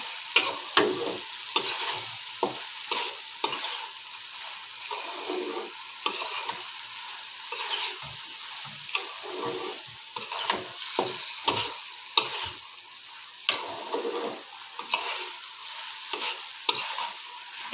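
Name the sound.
frying dal in a pan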